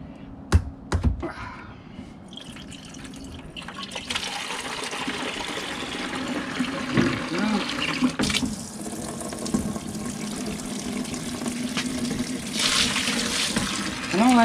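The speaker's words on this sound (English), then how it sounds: "we'll open this thing up and drain it out" Steady rush of water draining out of a vapor blaster cabinet into a bucket, close and continuous after a few sharp clanks of opening it up, with occasional gurgles and splashes.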